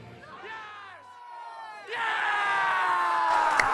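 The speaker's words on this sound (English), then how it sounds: "Nice one for the home crowd. Pop off the crowd rush." A home crowd at a Super Smash Bros. tournament, Floating Point 2026 in Australia, bursts into loud sustained yelling and cheering after a few scattered shouts, close and dense.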